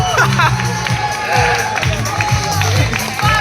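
A theatre festival audience breaks into cheering and clapping, with whoops and shouted voices over a dense crowd roar that stays loud and close throughout.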